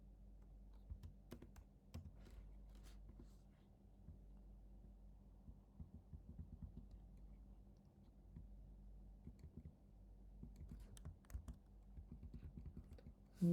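Quiet typing of CSS code on a computer keyboard: soft, irregular key clicks in bursts over a low electrical hum, with a brief louder tap at the very end.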